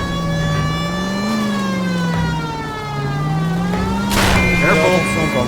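Police car siren in the video game L.A. Noire, a wavering electronic wail sweeping slowly up and down over engine noise, with a sharp burst partway through and no speech.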